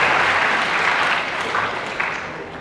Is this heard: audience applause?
yes